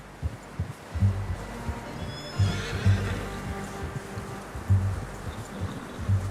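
A horse whinnies and snorts in Red Dead Redemption, its neighing heard alongside rhythmic low hoof thumps and ambient outdoor buzzing, moderately close.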